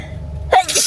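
A single sharp sneeze from a person during a hike, loud and close, following a low steady rumble of ambient noise.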